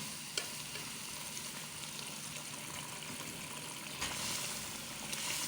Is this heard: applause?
no